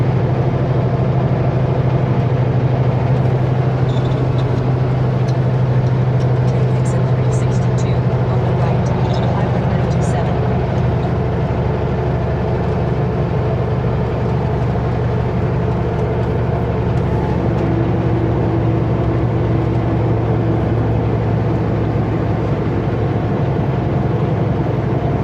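A car drives through Kamloops, filling the cabin with a steady, close engine and road drone that runs unbroken at an even level throughout.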